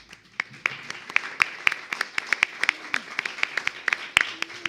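A small audience claps after a poetry reading, giving sparse, irregular individual claps that stay light and scattered rather than swelling into full applause, fairly close by.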